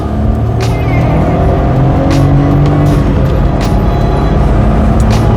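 Loud, steady engine drone heard from inside a Suzuki Alto Works while driving after timing belt, water pump, tensioner and lifter work, with road and tire noise and occasional shifts in the engine's pitch.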